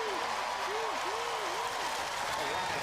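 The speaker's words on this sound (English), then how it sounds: "Big round of applause. Let's hear it for the Roboteers." Applause for robot combat competitors at a Robot Wars event, a soft, diffuse crowd clapping under a steady wash of hall noise, faint and continuous, with warbling speech-like tones sliding over it.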